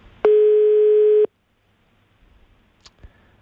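A single long, steady telephone call tone of about one second, loud and close, followed by near-silence with a couple of faint clicks; nobody picks up.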